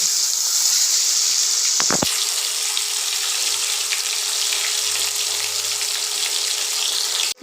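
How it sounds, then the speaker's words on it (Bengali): Eggs fry in hot oil with a steady, loud sizzle. A brief clatter comes near the start, then the crackling continues evenly. "ডিমটা ভাজা হয়ে গেছে"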